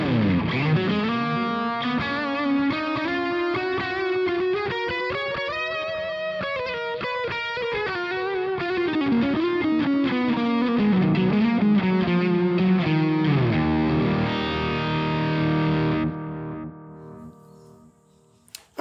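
Distorted electric guitar through a Brainworx Friedman DS40 Dirty Shirley amp plugin on a Lead USA 4x12 cabinet, a loud, continuous lead-and-chord passage with bending notes that sustains for most of the time, then cuts off abruptly near the end.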